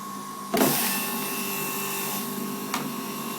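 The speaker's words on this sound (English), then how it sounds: "now the Jack Lalane power juicer" A Jack LaLanne Power Juicer motor whirs up abruptly and keeps running with a steady high whine, joined by a brief clunk near the end.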